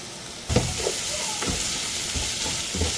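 Chicken goes into frying masala in a pan, bringing a sudden burst of sizzling followed by steady hissing and frying with scraping stir strokes, heard close with no talk.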